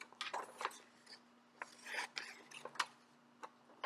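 Scissors cutting out paper pictures of people, a close, quiet series of irregular crisp snips and rasping paper rustles in short bursts, with no talking.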